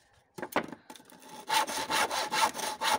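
A few short scraping strokes give way to a hand saw biting into a wooden board, with a regular rhythm of rasping strokes close by.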